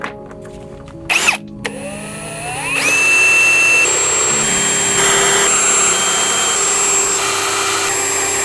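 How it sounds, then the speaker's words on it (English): A power drill pre-drills holes into a foam core boat hull for a DIY build: a brief whine and clatter, then a steady, loud, high motor drone that runs on alone for several seconds. "Now I'm going to go ahead and pre-drill it"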